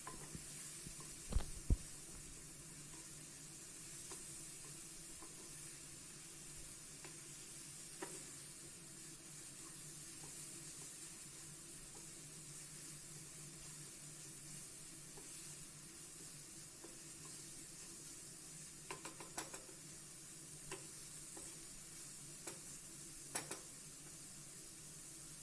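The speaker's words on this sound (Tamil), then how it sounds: "அது நல்லா சாட்டே பண்ணிக்கோங்க." Quiet, steady sizzling from a pan sautéing ingredients for paneer masala, a soft continuous fry with a few faint stirring clicks and scrapes scattered throughout, no voices.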